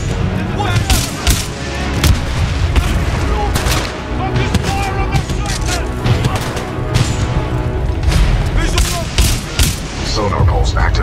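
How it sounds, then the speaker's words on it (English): Heavy gunfire from a titan's supporting fire in the shooter game Titanfall 2, loud dense bursts and booming impacts rattling continuously with a synthetic voice speaking over the battle. "Commencing supporting fire"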